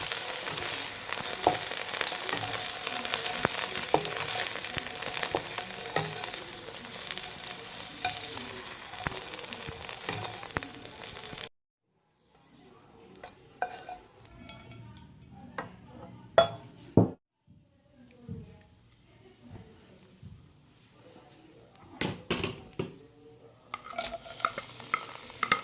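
Onions fry in a kadai for a masala for bhindi: a steady close sizzle with frequent spoon stirring and scraping against the pan, then a break, then scattered clinks and stirring scrapes with softer frying.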